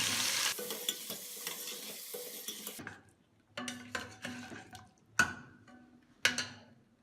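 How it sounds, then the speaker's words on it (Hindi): Mutton with ginger garlic paste frying in ghee sizzles under a strong hiss at first, then turns into a series of separate stirring scrapes and clatters from a pan, each one close and sharp. "अब इसमें गोश्त और अदरक लहसुन का पेस्ट डालकर अच्छी तरह भून लें"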